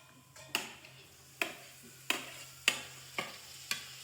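Tomatoes are stirred into a frying onion mixture, with six sharp spoon scrapes and taps against the pan at an uneven, unhurried pace over a faint background sizzle, quiet and close.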